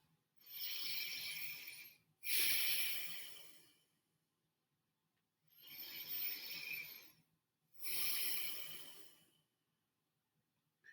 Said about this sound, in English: take 3 deep abdominal breaths as you settle in